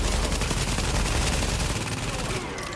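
Sustained rapid gunfire from the video game Tom Clancy's The Division, dense overlapping bursts filling the whole stretch at steady loudness, easing slightly near the end.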